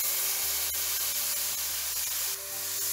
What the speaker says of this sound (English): Let's add around 1/2 of the milk